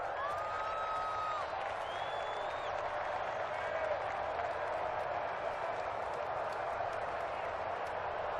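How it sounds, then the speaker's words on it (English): Home crowd in a Madden 26 American football video game cheering steadily in a large stadium, a continuous dense roar with faint whistles and whoops throughout. "And the home crowd loves it."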